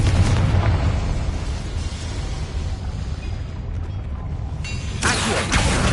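Confringo spell explosion in the video game Hogwarts Legacy: a sustained, loud, rumbling blast with dense low boom, easing mid-way and then flaring again with a bright burst near the end.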